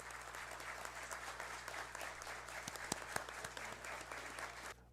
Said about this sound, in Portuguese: Peço uma salva de palmas a todos.